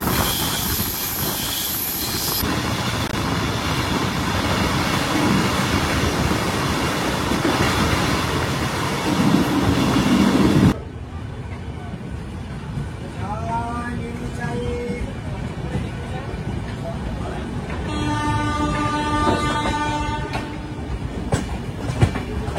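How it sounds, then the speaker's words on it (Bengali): A train rumbles steadily and loudly, then slows with a hiss; squealing wheels and brakes rise near the end as it pulls into Jasidih station in Jharkhand. "নির্ধারিত সময় থেকে প্রায় 30 মিনিট দেরিতে আমাদের ট্রেন এসে পৌঁছয় ঝাড়খণ্ডের জোসিডি স্টেশনে।"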